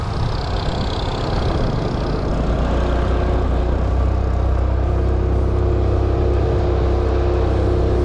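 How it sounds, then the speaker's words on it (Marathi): A car drives past on a rural road to Lohagad, its surface strewn with mud and sand washed down by heavy rain; a steady engine and tyre rumble swells and grows louder through the second half. "पहिली गाडी आता आम्हाला क्रॉस होते."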